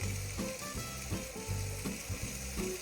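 Butter melting and sizzling in a hot pan, a steady close frying hiss with soft pulsing bubbles and a faint clink at the end, no one speaking.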